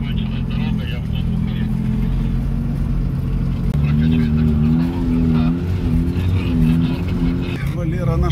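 A Nissan Patrol off-road vehicle drives along with a steady, loud engine drone and shifting revs throughout, while a voice talks over the engine noise.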